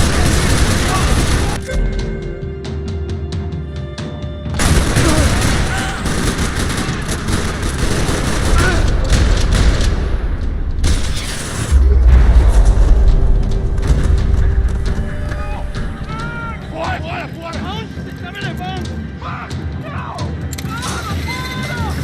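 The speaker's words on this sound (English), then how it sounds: "Rattling with gunfire." Gunfire and explosions in the video game Max Payne 3, a dense loud barrage of shots and booms with deep rumbling bursts, continuous across the scene with game dialogue and voices mixed in.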